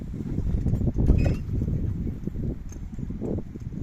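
Steady clip-clop of Friesian horse hooves walking on hard ground, with faint rustling and a busy outdoor background throughout.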